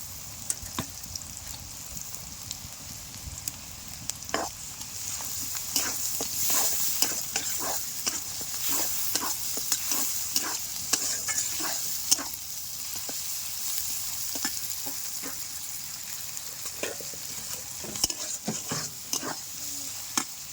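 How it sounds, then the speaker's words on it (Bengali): Ground spice paste frying in hot oil for a dhaba-style broad bean seed dish, a continuous sizzle broken by repeated scraping stirs and crackling pops at close range, with no voices. "এটা বেশি করে ভাজা যাবে না, একটু হালকাই নাড়াচাড়া করে নিয়েছি।"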